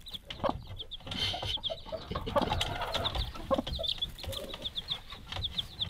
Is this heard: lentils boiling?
no